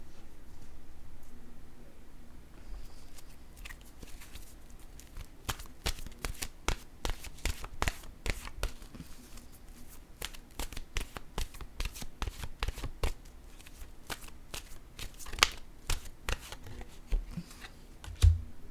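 Oracle cards are being shuffled by hand in a quiet room, a long run of quick crisp riffling snaps and flicks coming in uneven bursts, close and fairly soft.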